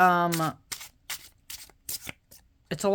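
Tarot cards being shuffled in a series of short, crisp riffling bursts, with a voice speaking briefly at the start and again at the end.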